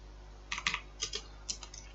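Typing on a computer keyboard while writing code, three short bursts of quiet clicking keystrokes separated by brief pauses.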